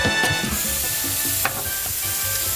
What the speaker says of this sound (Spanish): ahora lo que vamos a hacer es sellarlos en el disco